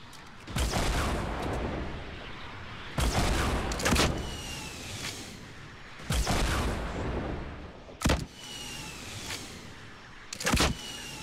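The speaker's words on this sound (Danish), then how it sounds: "Oh, der kommer RPG." Rocket-propelled grenade launches and explosions in the Fortnite video game, arriving as four loud broadband bursts with sharp onsets, each followed by decaying rumble and whistling debris, spaced a few seconds apart with no talk.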